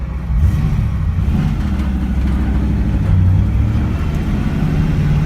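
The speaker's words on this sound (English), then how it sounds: "car's running. About to do my first test drive." A Nissan S13 with a 1UZ V8 engine pulls away on a test drive, a steady loud low engine drone heard from inside the car that rises gently under load, with no one talking.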